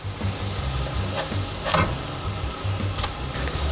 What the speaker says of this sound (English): so I'm going to go ahead and flip these over